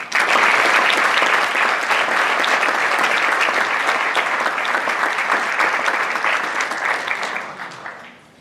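A school awards-night crowd applauds the senior athlete of the year with dense, loud, sustained clapping that keeps an even level and then fades out at the end.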